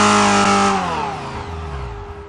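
A car engine in the ELECTUDE driving simulator fires up loud and revs, then the rising whine drops away and fades to a quieter settling hum over a couple of seconds.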